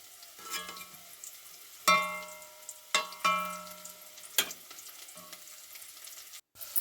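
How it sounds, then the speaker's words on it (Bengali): Onions sizzle gently in oil while a spatula stirs them, sharp scraping clacks against the pan landing every second or so over a soft, fairly quiet frying hiss, no talk. "পেঁয়াজটা নেড়ে চেড়ে লাল করে নিচ্ছি"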